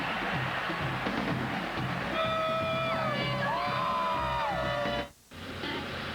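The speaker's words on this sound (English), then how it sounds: "Crowd noise had something to do with that." Stadium crowd at a Florida versus Auburn college football game roaring and yelling, a dense wall of cheering with sustained whoops and shouts rising over it, cutting off abruptly near the end.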